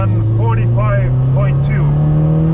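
A Subaru STI engine drones steadily on a karting track, its pitch climbing gradually under repeated rising and falling overlaid tones, loud and close from inside the car.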